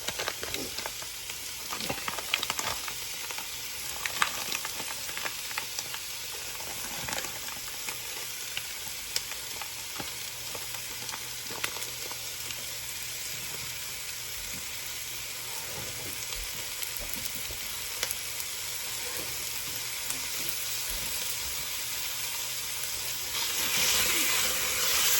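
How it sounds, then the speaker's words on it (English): Lean ground beef browns in a pot for a one-pot pasta, giving a steady, close sizzle and frying hiss throughout with occasional soft scrapes and pops and no talking. "we're going to add a pound of lean ground beef"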